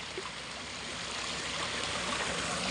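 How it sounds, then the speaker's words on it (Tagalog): Strong spring water flows continuously on an island water source, a loud, dense rushing and gurgling stream that fills the scene steadily without pause. "Ang lakas ng tubig, grabe."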